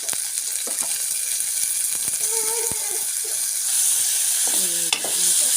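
Onion and tomato sizzling steadily in a pan while being stirred, with scraping and clinking of a spoon against the pan, louder stirring clatter toward the end; no talking.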